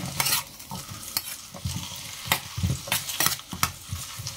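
Green chillies frying in a pan for mango tokku, a continuous sizzle broken by loud scraping stirs and occasional sharp pops, close and clear with no talking.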